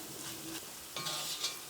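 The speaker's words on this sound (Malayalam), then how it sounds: "ഈ കുരുമുളകിൻ്റെ പൊടിയും എണ്ണയിൽ കിടന്ന് നന്നായിട്ടൊന്ന് മൊരിയണം." Ground black pepper frying in oil for a spicy pepper chicken fry, a soft, faint hiss and sizzle with a brief stir partway through.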